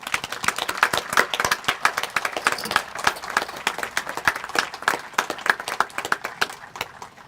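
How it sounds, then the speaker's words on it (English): Applause at a Memorial Day wreath-laying ceremony in Fanwood, a crowd clapping in a steady patter of sharp, close hand claps for several seconds, with no talking. "Please give Joe a round of applause."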